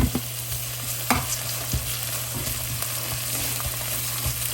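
Chili and minced ginger stir-fried in hot oil in a wok, with a steady sizzle and repeated scrapes and clacks of a spatula stirring the pan.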